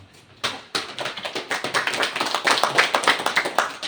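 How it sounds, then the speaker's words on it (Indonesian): Applause from a classroom audience: many hands clapping briskly, building in density and loudness over a few seconds, close and without talk. "Kalau tidak ada, tepuk tangan"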